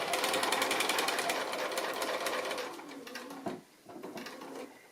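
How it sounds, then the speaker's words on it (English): A sewing machine stitches across fabric to close a small cord pocket in a bag, a fast, close mechanical chatter that slows and fades, stops briefly, then resumes more quietly. "I'm just going to stitch across, catching in the cord as I go, just to close the top of that little cord pocket there."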